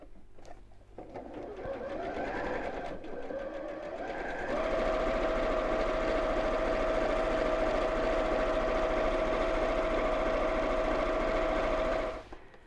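A sewing machine runs steadily, stitching all the way around the outer fabric and lining of a drawstring balloon pouch, a close, continuous whirring hum that rises to a faster, even drone and holds before stopping.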